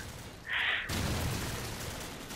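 Grenade exploding in an online shooter game, a sudden bright burst followed by a rumbling boom that holds steady for over a second.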